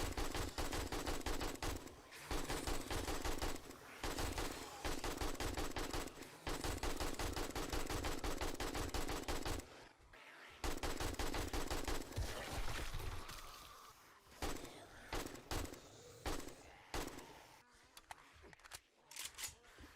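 Gunfire in the video game 7 Days To Die during a horde defense, long bursts of rapid automatic shots broken by short pauses, loud and sustained, growing more sporadic toward the end.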